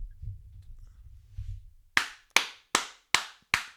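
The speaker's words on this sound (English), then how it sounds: "Joker clap" Five slow, deliberate hand claps, evenly spaced and sharp, delivered as a sarcastic slow clap. They follow a stretch of quiet low hum and stand alone, close and crisp.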